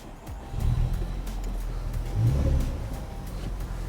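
Honda Civic Type R FK8 running at idle after a start, a steady low engine drone with a slight swell midway, recorded close by.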